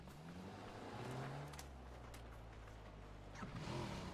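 A car engine hums in the PUBG battle royale video game, heard as a low, steady drone that stays fairly faint and constant throughout, with no talk over it.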